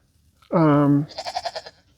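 A goat on a small goat farm lets out one loud, wavering bleat lasting about half a second, followed by a softer stretch of rapid, pulsing animal sound.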